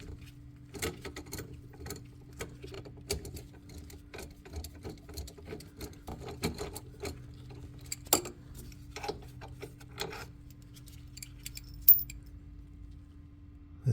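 A socket wrench on an extension undoes the half shaft bolts on a Corvette's rear suspension, making sparse metallic clicks and clinks with faint rattles, scattered irregularly and close against a quiet background.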